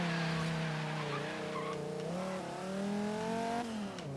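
Volvo 850R engine held at full throttle during a boost launch, a loud continuous rising drone with climbing pitch and brief dips at gear changes, close and steady throughout.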